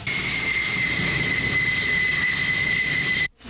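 A jet aircraft, an F-14 Tomcat fighter, roars loudly and steadily with a high whine over it, then cuts off abruptly near the end.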